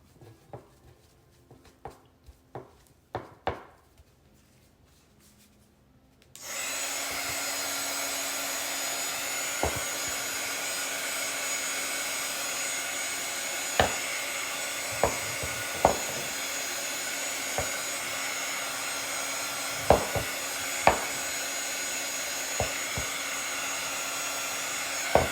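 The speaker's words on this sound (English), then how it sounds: "I'm gonna hit it with a dryer real quick." After a few quiet clicks, a hair dryer switches on and blows with a steady loud whoosh to dry paint and mud, with occasional small knocks underneath.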